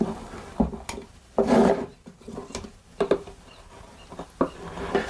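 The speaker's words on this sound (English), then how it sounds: "now I'm going to take a chisel and I'm just going to peel the excess glue off" A chisel peels excess glue off the top edges of a simple handmade wooden box, giving short scraping and rasping bursts at close range, several separate strokes with brief pauses between them.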